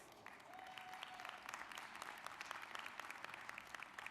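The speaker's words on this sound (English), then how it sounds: "Please welcome and give him a warm round of applause" A warm round of applause rises from the audience at the NAACP 105th Annual Convention, many hands clapping steadily and moderately loud, with some distinct sharp claps standing out and a brief tone early on.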